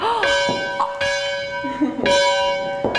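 A school bell at a historic village rings loudly in several sustained, clanging strikes, each tone ringing out and fading before the next.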